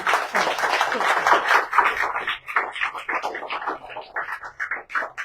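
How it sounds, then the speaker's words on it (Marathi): Audience applause at a felicitation event in Badlapur for a dance studio, dense steady clapping from a crowd sustained throughout at moderate loudness. "सो त्यांच्यासाठी पण एकदा जोरदार टाळ्या होऊन जाईल."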